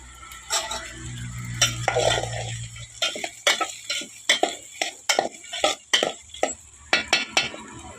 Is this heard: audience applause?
no